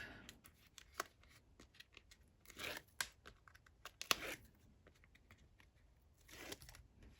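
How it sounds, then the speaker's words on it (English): Tape being peeled off a paper mini album base during scrapbook crafting: quiet, intermittent tearing and crinkling bursts, several short rips spread irregularly, close by with no speech. "We're going to take off all of this tape."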